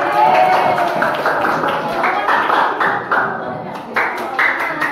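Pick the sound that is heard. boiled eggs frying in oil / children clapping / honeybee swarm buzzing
children clapping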